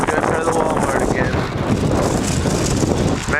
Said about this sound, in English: Man, it's cold and windy.